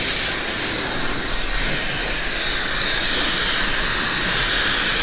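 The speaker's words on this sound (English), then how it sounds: "I like to use a blow dryer just to quicken up the process" A blow dryer runs continuously close by, drying paint on clothes with a loud, steady whooshing roar and a faint high whine, with no talk.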